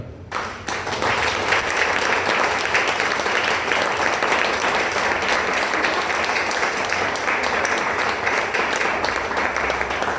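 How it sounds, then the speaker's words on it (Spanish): A church congregation breaks into loud, dense applause that holds steady for about ten seconds, a thick wash of many hands clapping together. "Dale un aplauso al Señor."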